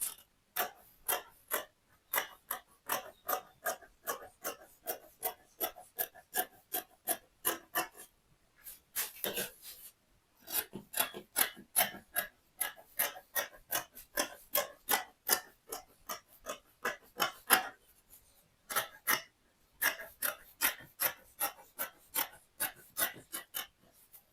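Scissors cut through Ankara fabric in a steady series of crisp, close snips, broken by brief pauses.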